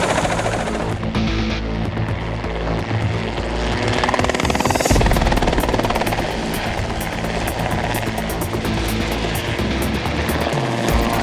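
A Robinson helicopter flies during cattle mustering in the outback, its rotors giving a loud, steady, rapid chopping thud with engine drone throughout, close and continuous.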